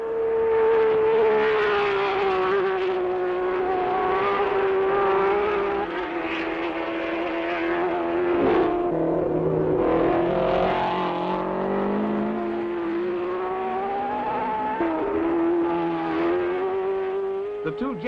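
Formula 1 race cars of 1967 roar past at the German Grand Prix on the Nürburgring, sustained high-pitched engine wail rising and falling as cars run nose to tail, loud and continuous with a faint commentary voice underneath.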